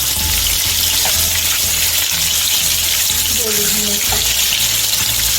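Chicken pops, homemade KFC-style chicken bites, deep frying in oil with a steady, loud bubbling sizzle throughout, under background music and a brief spoken word.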